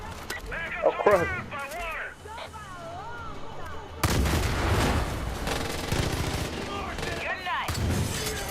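Cannon fire in a dug-in combat setting, heavy booming blasts with a dense rumbling barrage that sets in at about four seconds and keeps going, while someone shouts and talks over the opening.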